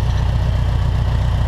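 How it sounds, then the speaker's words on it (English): A John Deere 450G bulldozer's engine runs at a steady low idle, loud and close, with an even rumble and no voices. "So I'm just going to start the engine up here briefly and demonstrate that operation."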